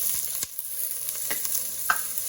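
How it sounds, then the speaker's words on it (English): Minced garlic sizzles and fries in a pan for birria, a soft steady hiss with a few light stirring scrapes, close and continuous, with no voice. "Next thing I'm gonna add is some minced garlic."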